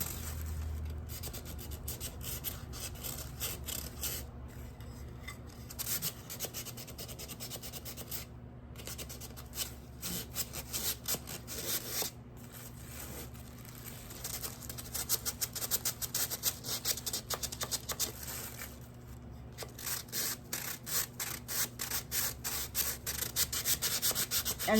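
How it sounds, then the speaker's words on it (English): A resin terrazzo tray with terrazzo chips is sanded by hand, a steady close scratchy rubbing that continues in rhythmic strokes throughout, growing a little louder and more regular toward the end, with no talk. "it's probably no fun watching me just sand, but this is sometimes what you have to do to get that to come through"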